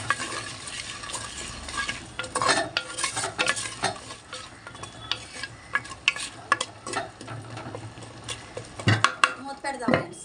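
Potatoes and vegetables are stirred in a pot while a vegetable biryani is being made. Spoon scrapes and clinks go on through the clip alongside a steady background sizzle, and a few louder metallic knocks come near the end.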